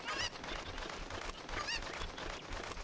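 Cucco chickens in The Legend of Zelda: Ocarina of Time give a pair of shrill squawks over a busy, noisy game background, one near the start and another midway.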